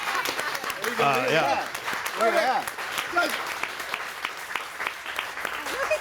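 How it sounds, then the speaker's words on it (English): Studio audience on a San Diego talk radio show giving a short burst of applause, moderate and somewhat distant, with hosts talking over it throughout. "we should clap for this"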